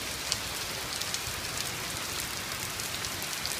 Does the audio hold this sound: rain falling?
yes